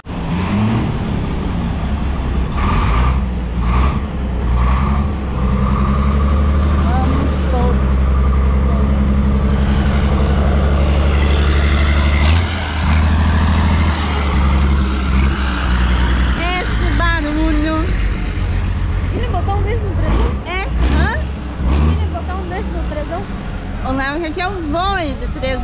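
A Mercedes racing truck engine drones loudly and heavily throughout, swelling and revving at times, while people talk over it almost the whole way through.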